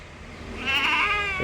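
A single goat bleats nearby, a wavering, nasal cry lasting under a second that rises out of low background noise.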